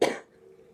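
A single sharp cough after medical treatment bursts out close and fairly loud, then trails off into quiet room tone.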